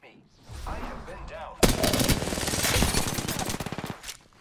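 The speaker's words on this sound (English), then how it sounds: "The enemies are shooting at me." Automatic weapons fire in Apex Legends, with R-99 bursts from enemies: a sudden, loud, rapid stream of gunshots that keeps rattling to the end, with faint voice sounds before it starts.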